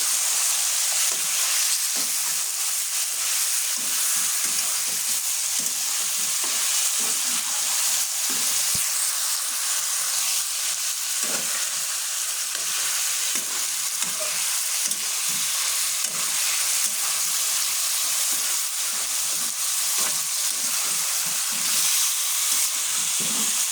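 Chicken meat sautéing in a pan, a continuous dense sizzle and crackle throughout with occasional soft stirring scrapes, no voices.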